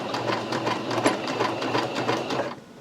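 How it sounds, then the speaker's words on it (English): A sewing machine runs a steady straight stitch along the edge of an isolation gown, its close, even mechanical whir pulsing rapidly for a few seconds before cutting off near the end. "So we'll run a straight stitch along"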